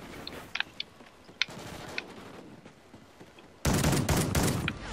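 Shotgun blasts from the Bulldog in Call of Duty: Ghosts play as scattered sharp cracks over quiet game ambience, followed by a loud, dense burst of gunfire near the end.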